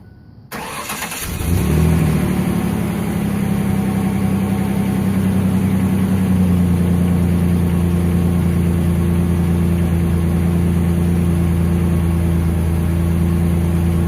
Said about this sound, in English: Now for an exhaust clip.